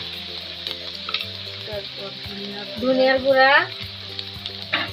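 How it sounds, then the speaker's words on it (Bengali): Spice paste of salt, turmeric and ground coriander fries and is stirred in a pan, a steady close sizzle with scraping strokes running under background music and a spoken phrase. "এখন ভালো মতো মশলাটাকে কষিয়ে নিতে হবে"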